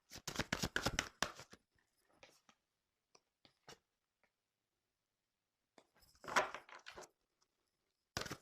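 Tarot cards are shuffled for a reading in quick close riffling bursts at the start and again later, with quiet gaps and faint handling sounds between them.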